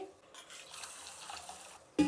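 Quiet swishing and sloshing of water as soaked millet grains are rinsed, lasting a couple of seconds before a brief louder splash.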